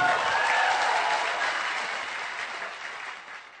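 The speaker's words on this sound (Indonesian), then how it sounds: "Bapak Rizal Fat, Tepuk tangan untuk beliau." An audience claps for a speaker being introduced at a motivational seminar, a steady wash of applause that starts full and gradually tapers off, moderately loud with no talking over it.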